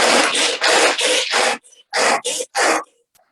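Pull-cord Eco Chop chopper chopping pecans: a series of loud close rattling whirs, each burst lasting a fraction of a second, five in quick succession, a pause, then three more, with brief clicks between.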